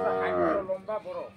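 Cow in a village cattle shed in Dinajpur lowing in one long, loud moo that breaks into a few shorter grunting calls, close by with no talk over it.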